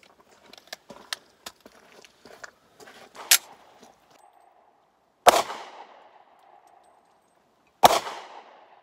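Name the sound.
Kahr P40 pistol firing a 6-round magazine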